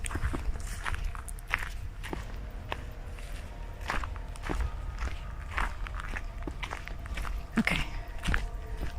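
Steady footsteps crunching through a forest floor with a noisy backpack rustling and clattering, close and continuous for several seconds, with no clear talking.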